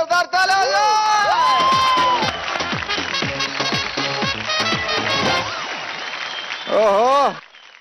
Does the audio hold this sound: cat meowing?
no